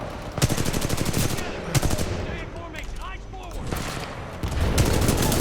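Rapid automatic gunfire from Titanfall 2 combat, bursts of loud close shots and fusillades overlapping through the clip with brief lulls, under faint speech.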